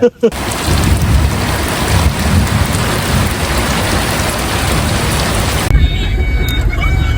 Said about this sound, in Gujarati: વરસાદ એમ ચાલુ છે